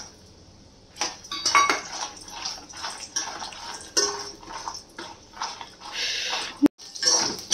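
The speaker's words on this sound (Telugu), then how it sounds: "ఇప్పుడు వేగే మిరపకాయల్లో తెల్లగడ్డలు వేసుకుందాం." Garlic cloves dropped into red chillies frying in oil sizzle steadily in a pan, with a loud crackling hiss that rises and falls alongside occasional clinks of a utensil.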